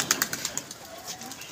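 Pigeons make a quick series of sharp flaps and soft coos close by, with faint background ambience behind them.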